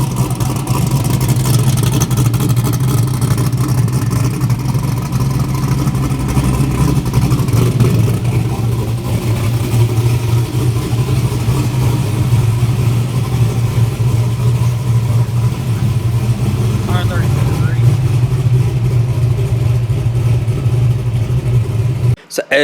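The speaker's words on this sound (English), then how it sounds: "we got the car running" Car engine running loudly close by, a steady deep idle hum with slight revving swells under constant rumble for about twenty seconds, cutting off abruptly at the end.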